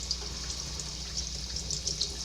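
Tap water poured into a houseplant container, a steady close trickle and splash running without break, with no voices.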